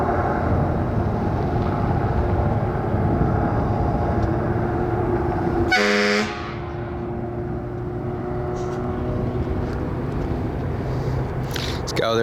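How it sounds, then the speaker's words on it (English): A vehicle horn honks once outdoors in Boston Bar, British Columbia: a short, loud, clear blast lasting about half a second, standing out from a steady, broad background rumble. "This guy out there just honked his horn."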